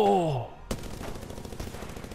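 Rapid automatic gunfire from Apex Legends, a sharp crack followed by a quick string of shots, after a voice briefly shouts an exclamation at the start.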